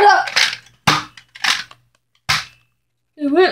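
A toy cap gun cocked and fired, several sharp loud cracks spaced irregularly, close by, with someone speaking between the shots.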